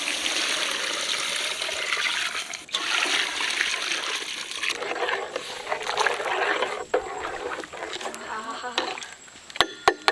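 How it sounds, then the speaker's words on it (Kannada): Water poured into a pot with chopped onion, rock salt, turmeric and goat tripe for boiling, a close gushing splash that comes in several pours and ends with a few sharp knocks, with no talk. "ಬೋಟಿ ಬೇಯಿಸ್ಕೊಳಕ್ಕೆ ನೀರು"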